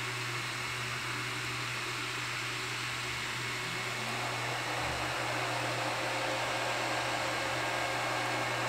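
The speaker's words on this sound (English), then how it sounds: "that was the power supply fan turning on" The power supply fan of an Ender 3 3D printer runs, a steady, even whirring hiss with a low hum beneath, holding constant for the whole stretch.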